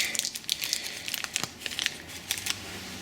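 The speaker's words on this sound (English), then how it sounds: "take one of our bearings and unwrap it" A new washing machine bearing for a Fisher & Paykel washer being unwrapped from its packaging, giving close, bright crinkling and tearing of wrapper material in irregular bursts with no speech.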